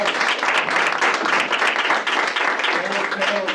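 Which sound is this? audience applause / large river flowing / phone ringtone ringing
audience applause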